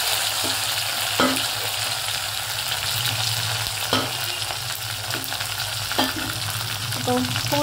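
Garlic and curry leaves frying in hot oil, a steady close sizzle with a few sharp stirring clinks and scrapes recurring every couple of seconds, no speech.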